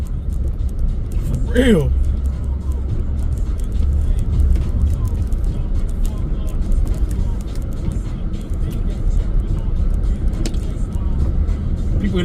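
A big all-wheel drive truck in four-low grinds through deep snow during a snowstorm, a steady close engine and tire rumble throughout, with someone talking over it.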